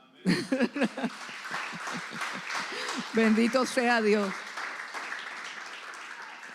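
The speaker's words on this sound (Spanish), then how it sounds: "Date un aplauso." A church congregation applauds in a broad, steady patter while someone speaks over it, and the clapping fades as she continues.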